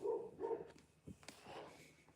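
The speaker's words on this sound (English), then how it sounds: "As the dog's barking." A dog barks outdoors at night, a few short barks in quick succession at moderate distance, followed by fainter sounds and a low background hum.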